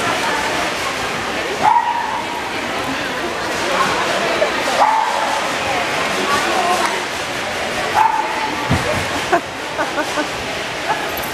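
A dog at a pet expo gives short barks, yips and whimpers amid the hubbub of a crowded indoor hall, with people talking close by throughout.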